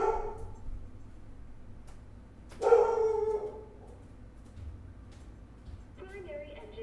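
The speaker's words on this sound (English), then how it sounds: "Kato, what are you barking at?" A pet dog named Kato barks indoors, a couple of short barks and yips fairly close, with quiet gaps and faint movement between them.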